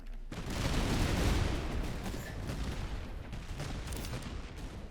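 Massed musket volleys and cannon fire in Master of Command, a dense roaring crackle of gunfire that swells early and continues as a steady distant battle din.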